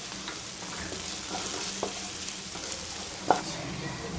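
Kashmiri chilli powder and pepper powder being stirred in a hot pan for spicy paneer roast, a continuous soft sizzle with light scraping strokes and one sharp utensil knock near the end.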